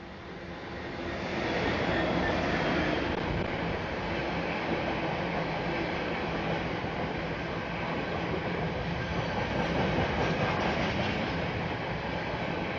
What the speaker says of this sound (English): Next freight of the session sees 66758, passing 9 minutes early